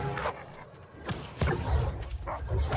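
Wolves in the video game New World bark and yip in short, scattered bursts, some brief whimpering yelps, close and fairly loud over a faint game background.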